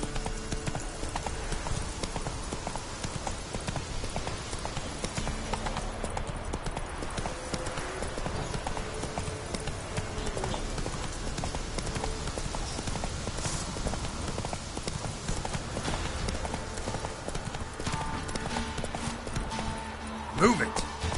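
Roach the horse gallops in The Witcher 3, a steady fast clip-clop of hooves that runs throughout alongside ambient game sounds, with voices speaking now and then over it.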